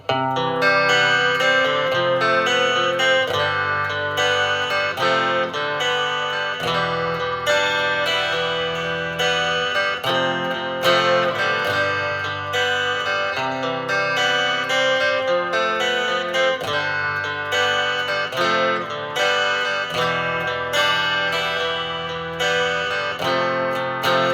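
A shimmering electric guitar plays continuous arpeggiated chords with a lush chorus effect, steady and full, with no voices over it.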